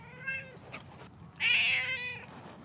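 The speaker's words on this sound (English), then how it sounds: "Kitty's upset." A grumpy, upset cat meows several times up close, with a louder, drawn-out cry in the second half.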